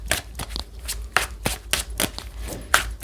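Tarot cards are shuffled and handled in a series of quick papery riffles and snaps, close and fairly steady over a few seconds, with no talking.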